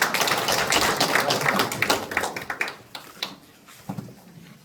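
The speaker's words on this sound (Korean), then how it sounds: "차렷 경례 박수 좀 드립니다." An audience applauds at a Korean committee launch ceremony, a dense burst of claps that thins out into scattered, fading claps.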